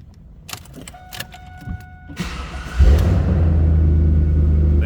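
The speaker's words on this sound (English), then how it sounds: "Nice sounding exhaust, as you can hear." A 1999 Pontiac Firebird Trans Am convertible is cranked, with electric whirring and clicks, then the engine catches and settles into a loud, deep, steady exhaust rumble at idle.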